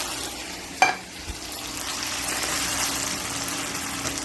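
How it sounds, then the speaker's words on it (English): Creamed mushroom soup goes into a sizzling skillet with browned beef, a sharp splatter on contact followed by a steady close frying hiss, no talking. "let's go ahead and add our creamed mushroom soup to the skillet."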